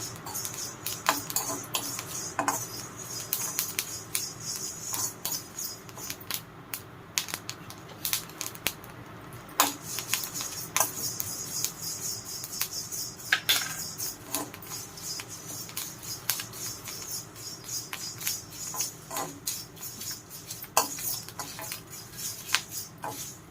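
Curry leaves and other hair dye ingredients roast dry in a pan until blackened, giving irregular close crackles, taps and scraping from stirring over a faint background hiss.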